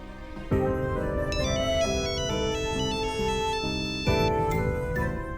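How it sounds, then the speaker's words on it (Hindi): A melodic phone ringtone plays loudly and continuously, its chiming tune repeating with a bright tinkling pattern and no talking. "उनका फोन भी आ गया"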